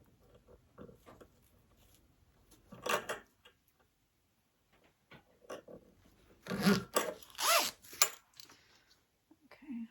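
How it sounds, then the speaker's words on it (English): A 14-inch zipper being handled for a tote bag pocket, giving short raspy zipping and rubbing bursts in a few separate clusters with quiet gaps between, close and fairly faint. "So this is my like 14-inch zipper,"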